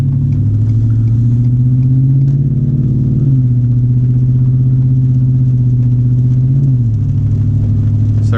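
A car with an OZ Tuning Omega tune accelerating in sixth gear, a loud, steady low engine drone that rises gradually in pitch, with slight dips at shifts.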